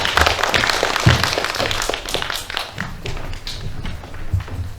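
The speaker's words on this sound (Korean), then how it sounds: "박수로 환영해 주시기 바랍니다" A crowd applauding at a Korean public presentation, dense clapping spread across the whole stretch with scattered louder claps, steady and fairly close.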